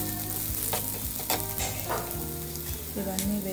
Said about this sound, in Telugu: వేసుకొని బాగా వేయించాలి.